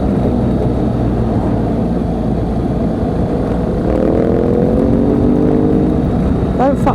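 A BMW GS motorcycle being ridden, its steady engine drone and wind rush filling the clip continuously at close range, with a voice briefly heard near the end.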